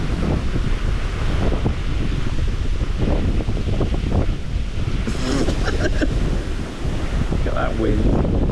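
Steady wind roars across the microphone beside the River Thames during a club fishing match, a loud continuous buffeting that fills the whole stretch with brief gusting swells.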